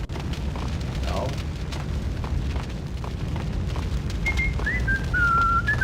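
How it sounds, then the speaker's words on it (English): A man whistles a short tune in the 2001 game Max Payne: a few thin, wavering notes rising and falling near the end over a steady rumbling background. "I hear him whistle one more time"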